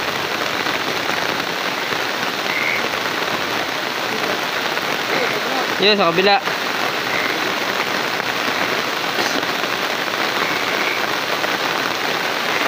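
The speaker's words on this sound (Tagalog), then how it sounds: "Lakas ng ulan." Heavy rain pours steadily onto surfaces outdoors in a loud, unbroken wash that continues throughout, with one brief voice speaking over it partway through.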